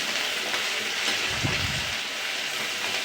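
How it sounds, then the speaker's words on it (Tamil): Small onions sautéing in hot oil in a home kitchen while being stirred for a Tamil-style chicken curry, a steady close, loud broadband sizzle with a brief rougher scraping swell in the middle. "சின்ன வெங்காயத்தை போட்டு நல்லா கிளறணும்"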